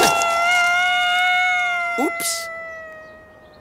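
A cartoon kitten gives a long, sliding meow that rises and falls, loud and near, with a brief scuffle and rustle partway through before the cry fades out alone.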